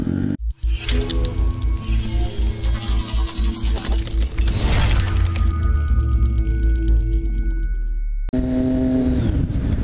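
A Triumph Street Triple motorcycle with an SC Project exhaust revs hard in a rapid series of sharp, popping bursts, loud and close, then settles into a steadier roar with wind noise.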